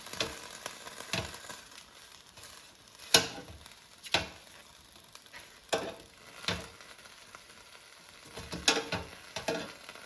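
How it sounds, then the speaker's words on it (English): Greek sausages are turned in an air fryer basket, with scattered sharp taps and clinks of tongs against metal over a faint background hiss, spaced irregularly and heard close. "let's take out the air fryer basket, and you can flip the sausages over so they brown more evenly."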